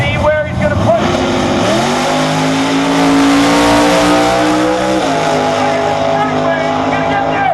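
X275-class drag race car blasting down the track at full throttle, a loud, steady engine roar that climbs in pitch through the gears, with a commentator talking over it.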